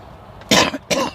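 Two short, harsh coughs in quick succession, close up, from a person outdoors at a cold, hail-swept carp fishing bivvy, with quiet background between them.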